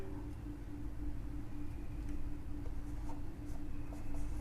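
Pen or marker writing on a board while algebra terms are worked out, a continuous soft scratching and rubbing sound close up over a low background hum.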